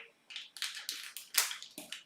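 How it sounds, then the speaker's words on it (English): Scissors snip through a food packet in a home kitchen while making lentil soup, a series of about seven sharp crisp cuts in a quick uneven rhythm, close and fairly loud with no talking. "Oh, some scissors."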